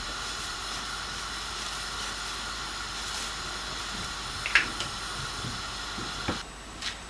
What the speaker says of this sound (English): We're gonna start frying our salmon.